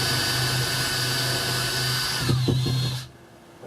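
Power drill boring into a teardrop camper door for a latch, a steady loud whine that drops off after about three seconds with brief rattling bursts near the end.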